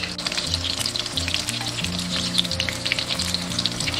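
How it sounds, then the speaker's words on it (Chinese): Devil ray fish bones deep-fry in very hot oil, a dense, continuous crackling sizzle with busy bubbling close by. "朋友们，炸任何鱼类一定要用高油温下去炸"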